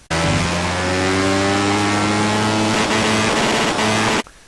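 A kart engine in Kart Racing Pro screams at full throttle, a loud, steady, buzzing whine with rising harmonic tones that cuts off abruptly near the end, with no talking.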